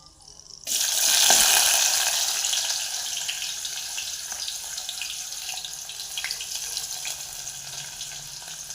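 Sliced onion drops into hot oil already holding cloves, chili and bay leaf. A sudden loud burst of sizzling settles into a steady, close crackling hiss with no voices.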